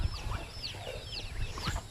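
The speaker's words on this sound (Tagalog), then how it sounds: "tingnan nyo tong mga bibe, oh, ang dami" A flock of ducks calling together, with overlapping quacks and clucking notes repeating steadily throughout at moderate distance, no speech.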